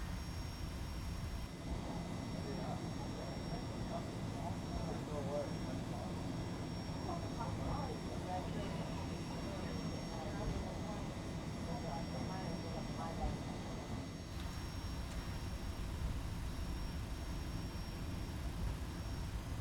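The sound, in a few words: airplane landing in X-Plane 11 flight simulator video game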